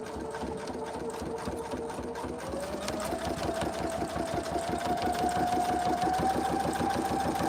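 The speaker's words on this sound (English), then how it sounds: "I'm going to stitch to the end" A sewing machine stitches binding on a zippered project bag, humming steadily up close with a fast, even rhythm that gradually speeds up and grows louder.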